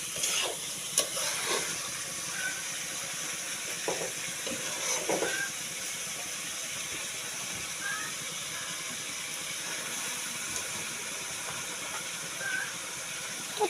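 Malabar spinach (pui shak) with dried fish sizzles and hisses steadily in a pan, with intermittent scraping stirs and small spatters close by.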